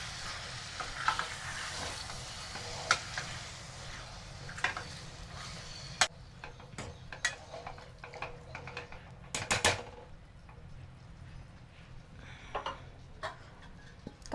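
Ingredients are stirred in a cooking pot for a Telangana-style recipe, with faint, sporadic scraping clicks and taps from the spoon over a soft sizzle in a quiet kitchen.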